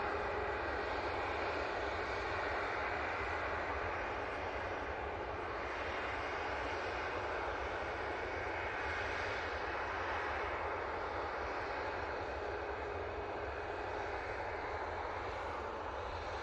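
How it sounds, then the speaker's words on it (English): Jet2 Airbus A321neo in holidays livery taxiing, a steady broadband engine roar held at an even level throughout, with no voices. "Might as well go and have a look at this Jet 2 here. Making its way, it's across 321 Neo, so in the holidays livery."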